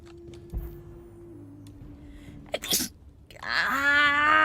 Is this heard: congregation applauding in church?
no